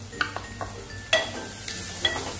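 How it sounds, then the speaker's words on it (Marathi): Onion sautéing in a pan with garlic, chilli and ginger paste, a soft steady sizzle under a few sharp scrapes and clinks of a stirring spoon against the pan. "आणि चांगला परतवून घेऊया कांदा सुद्धा"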